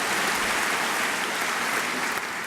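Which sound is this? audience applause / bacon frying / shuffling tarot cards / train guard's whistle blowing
audience applause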